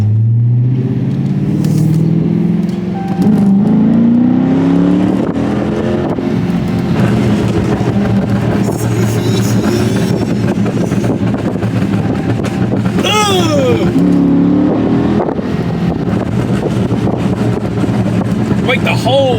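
Chrysler 300 with a stage 1 burble tune: a loud, close exhaust rumble with two distinct rising revs, early on and again near the end, over constant wind buffeting.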